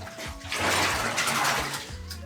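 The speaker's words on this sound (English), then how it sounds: "So I'll kind of shake it around, but you can see how nasty this water is." A rope used for magnet fishing is swished and shaken around in a container of dirty water, giving soft sloshing and splashing that swells in the middle and then fades, with no voices.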